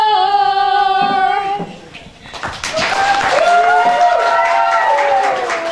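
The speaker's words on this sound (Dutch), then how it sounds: "Geef ze een applaus alsjeblieft" Audience applause for four child candidates at a children's and youth show in Belsele, with sustained clapping swelling after a stretch of singing and continuing under voices and music.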